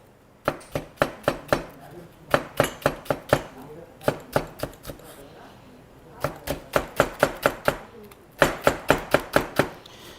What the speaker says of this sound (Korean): 대파는 이렇게 어슷 썰어 주시면 돼요